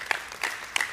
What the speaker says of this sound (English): That's worth applauding for.